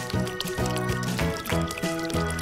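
Water pours and splashes steadily in repeated bursts over tiny toy cars and trucks, bubbling and dribbling close by, like a shower being switched on and off.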